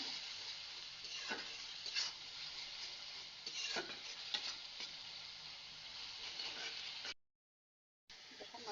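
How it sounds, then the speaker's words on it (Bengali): Spice paste with chili powder frying in oil in a pan for a pabda fish curry, giving a soft, continuous sizzle with light stirring clicks that stops briefly near the end. "মরিচের গুঁড়া এবার আমি মশলাটা কষাবো"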